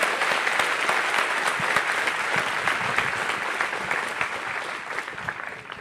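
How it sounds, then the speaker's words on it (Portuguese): Church congregation applauding loudly and steadily, dense clapping from many hands that carries on across the whole stretch without pause, with no one speaking over it. "Aplauda forte a ele"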